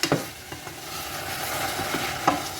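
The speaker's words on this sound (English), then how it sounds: "you have to keep stirring it once you add your liquid" Red rice in a pot with liquid added is stirred close up under a continuous low simmering sizzle, with a few soft spoon scrapes and knocks against the pot.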